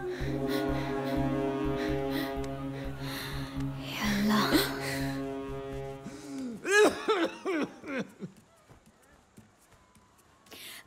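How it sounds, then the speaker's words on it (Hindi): A voice speaks over low music, then several harsh coughing fits break out up close, trailing off into quieter breathing and rustling. "खांसते खांसते मर जाओ"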